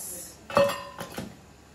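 A steel bowl presses and cuts the edges of Mughlai paratha dough on a kitchen surface, giving two short metallic clinks about half a second apart, close and fairly quiet.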